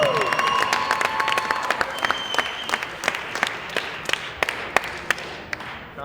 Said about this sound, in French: Une bonne main d'applaudissements pour ces trois guerrières du ring.